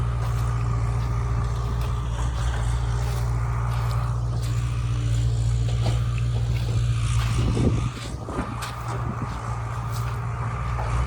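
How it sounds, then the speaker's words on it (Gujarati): A tractor engine drones steadily at close range, a loud, even low hum, while it pushes felled guava trees into a pile on a farm plot; a burst of crunching clatter breaks through near the end. "સામે એના બાપુ છે ડ્રાઈવર, એ ટ્રેક્ટરથી ધક્કો દઈને ભેગો કરી રહ્યા છે"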